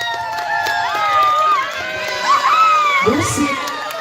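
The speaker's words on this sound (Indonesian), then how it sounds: "Saya minta tepuk tangan untuk ke-17 adik-adik yang sangat luar biasa untuk malam hari ini." Crowd cheering and shouting, with children's voices, at an evening Ramadan children's fashion show competition; a steady, lively roar with rising whoops, and music-like tones running underneath.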